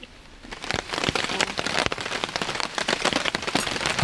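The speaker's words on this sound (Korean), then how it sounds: "다시 또 비가 내리네요." Rain falls on a campsite, with dense crackling drops pattering steadily on nearby surfaces throughout.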